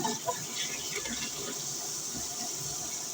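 A tap runs steadily, water gushing into a sink with a constant hiss and splash, close and moderately loud.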